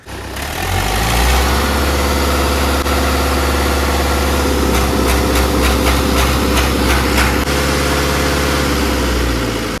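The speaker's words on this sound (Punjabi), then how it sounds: "ਸਟਾਰਟ ਵੇਖੋ ਫੁਕਾਰੇ ਮਾਰਦਾ ਟਰੈਕਟਰ" A 5911 tractor's diesel engine starts up and settles into a loud, steady idle with a deep rhythmic chug throughout, no voices present.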